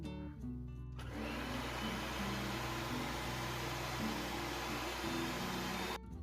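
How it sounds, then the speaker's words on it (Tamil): An electric beater whirs steadily and loudly as it whips a two-ingredient pudding mixture until frothy, a constant motor drone running for several seconds before cutting off abruptly. "இப்போ இதை கொஞ்சம் நல்லா பீட் பண்ணி எடுக்கணும்"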